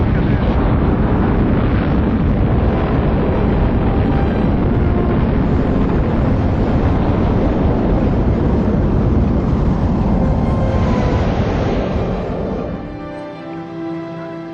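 Rocket launch: a loud, continuous roar with a broad rumble runs for about twelve seconds, then fades away quickly.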